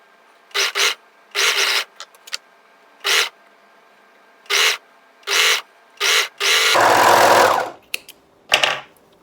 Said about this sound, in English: And then you just match your notches and sew all the way around.